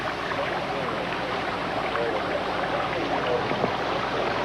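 Steady flowing water outdoors, a dense continuous rushing wash at moderate level with small splashy details, no voices over it.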